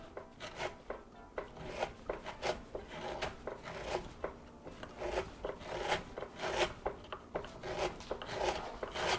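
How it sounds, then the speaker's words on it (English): A fresh, washed lemon being zested on a grater, producing close, repeated dry rasping strokes in a fairly steady rhythm over roughly nine seconds, with no talking. "let's do some zesting here"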